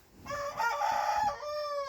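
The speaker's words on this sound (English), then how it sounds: "if the roosters would shut up" A rooster crows loudly nearby, one long drawn-out call followed by the start of a second crow.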